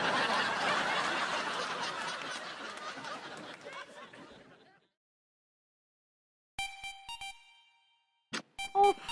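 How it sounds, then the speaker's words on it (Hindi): Laughter and chatter fade into silence, then a phone's electronic ringtone sounds in short bursts, ringing twice with brief gaps. "ओह, अब इस वक्त किसका फोन आ गया?"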